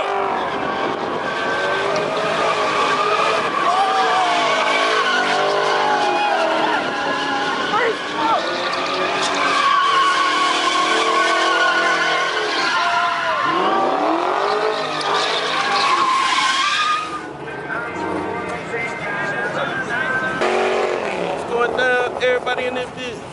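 A BMW 550 spinning out with tires squealing and skidding hard, the engine roaring loud and close for a long stretch before easing off, with people shouting and talking throughout.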